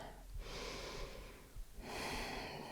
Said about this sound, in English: Notice the cool breath entering the nostrils.